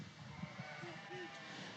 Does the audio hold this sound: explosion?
no